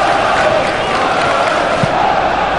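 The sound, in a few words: football crowd reacting to a tackle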